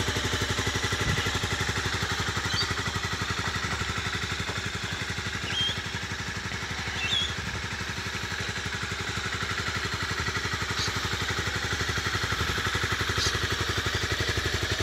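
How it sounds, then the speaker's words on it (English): A Honda CBR250R motorcycle engine idles steadily at close range, a low even chugging with a faint mechanical clatter, no voices. "I've just started the bike, and I know it's you can barely hear it"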